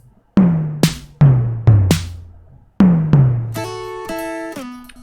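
Homemade Arduino electric drum with piezo triggers firing MIDI drum sounds: four sharp, booming drum hits with decaying low tails, followed by a burst of quick bright cymbal-like strikes, loud and close.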